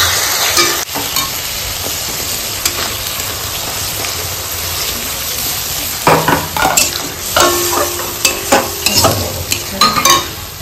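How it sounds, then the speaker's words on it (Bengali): Spice masala for an egg curry fries in a pan with a loud, continuous sizzle. Over the second half a spoon stirs and scrapes through it in repeated short strokes, with no voices. "এই যে দেখো আমাদের মশলা কিন্তু কষানো শুরু হয়ে গেছে"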